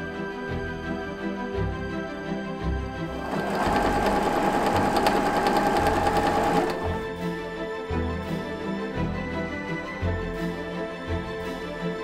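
A sewing machine hems a chemise and its sleeve for a Regency costume, a steady whirring run of stitching lasting about three seconds that stands out loudly against a quieter room background.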